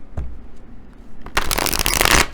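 A Mystical Medleys tarot-style card deck, themed on vintage cartoons, is riffled and shuffled: a few soft taps, then a dense burst of flapping card noise over about a second, close and fairly loud, with no talking.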